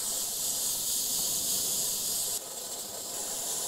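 An airbrush hisses in a steady, close spray while dusting a light layer of splatter through a template, the hiss dipping slightly partway through and continuing alone.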